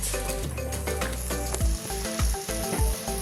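Gujarati thuli, a broken wheat lapsi, bubbles as it cooks in a pan, a busy sizzle layered with soft rhythmic clicks and scraping stirs, close by and without voices.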